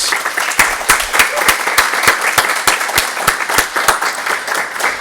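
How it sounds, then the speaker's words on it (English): An audience at a youth startup pitch showcase gives loud, dense applause, many hands clapping steadily and close by for several seconds. "give these young people a round of applause"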